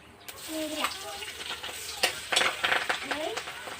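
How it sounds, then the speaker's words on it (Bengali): Chopped onion hits a hot pan and sizzles, with a scraping stir and bursts of crackling building toward the end, while a voice briefly sounds nearby. "এই দেবো আমি পেঁয়াজ কুচি"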